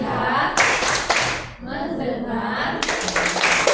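A classroom plays the rhythmic clapping game tepuk fokus: bursts of group hand claps in a chanted rhythm, interleaved with voices, a brief pause midway, then more clapping.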